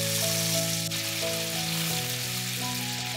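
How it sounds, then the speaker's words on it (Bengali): Marinated chicken drumsticks for tangdi kebab fry in melted butter and oil in a frying pan, giving a steady, close sizzle throughout with a faint tonal layer underneath. "তারপর একে একে আমি ম্যারিনেশন করা চিকেনটাকে দিয়ে দিলাম।"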